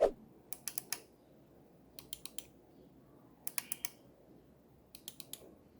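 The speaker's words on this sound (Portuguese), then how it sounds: "Ele usa esse formato onde as teclas cobrem grande parte do dispositivo e tem esse clique bem sensível, igualzinho a um clique de mouse." Zemismart ZMR4 Zigbee scene button keys pressed in quick bursts of three or four light, crisp clicks, close up and sharp like mouse clicks, with quiet pauses between groups and no talking.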